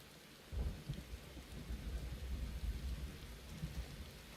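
Steady rain and low rolling thunder fill a dark Final Fantasy XIV story scene, a continuous storm wash with rumbling swells throughout and no voices.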